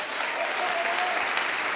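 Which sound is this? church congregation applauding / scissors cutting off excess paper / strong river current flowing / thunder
church congregation applauding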